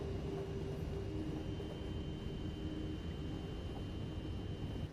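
A train rolls steadily along its rails in a continuous, even low rumble with a faint steady whine above it, quiet and unbroken throughout, with no voices.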